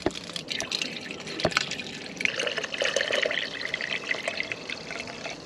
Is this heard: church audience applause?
no